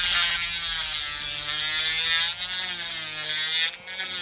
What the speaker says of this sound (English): we're gonna take the Dremel and clean it up